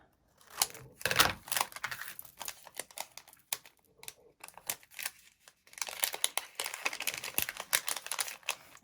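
Scissors snip and crinkle through the ends of a plastic nail polish strip package, close-up rustling and cutting in uneven bursts with brief pauses.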